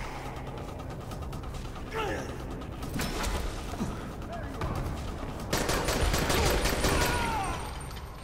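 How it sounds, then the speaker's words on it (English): A three-shot burst gun fires in Dying Light 2, with loud rapid shots in clusters over several seconds amid ongoing game noise and movement. "Yeah, this is like a three-shot type gun."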